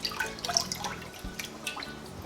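Fish is rinsed under running water for fish tea soup, a close steady splashing and trickling with small drips, no talking.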